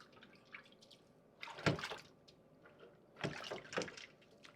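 Pigtail meat being washed by hand with salt and water in a bowl while cooking Jamaican stew peas, giving two bursts of splashing and sloshing water between quieter drips and faint handling noise.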